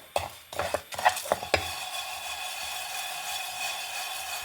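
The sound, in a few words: dry-roasting sesame seeds, chana dal and urad dal in pan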